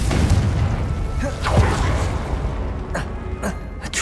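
Confringo fire spell explosion in the Hogwarts Legacy video game, a booming blast with crackling debris followed by a few sharp impacts and whooshes amid game effects.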